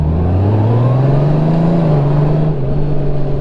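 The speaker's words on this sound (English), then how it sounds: "Sounds like a big American muscle car when you're at slow speed." Honda Goldwing DCT motorcycle engine at slow speed, a deep, steady drone that rises slightly in pitch and then settles, loud and close with no talk over it.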